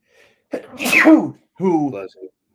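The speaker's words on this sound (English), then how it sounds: "I'm going to sneeze" One loud, close sneeze bursts out, followed a moment later by a short vocal sound.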